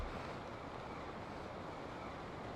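Steady rushing water in The Legend of Zelda: Tears of the Kingdom, a constant broadband wash with no distinct events and no voices.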